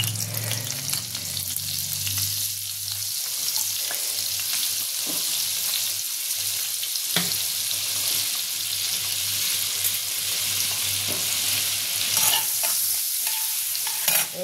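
Butter melting with a little oil in a hot wok gives a loud, steady, close sizzle that runs without a break, with faint stirring scrapes now and then.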